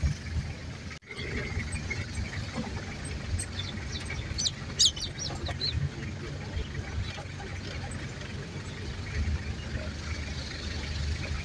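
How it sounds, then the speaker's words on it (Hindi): A rooster standing on a road in a village clucks now and then, faint among distant birds chirping and steady outdoor ambience. "ये सामने मुर्गा रोड के ऊपर खड़ा है।"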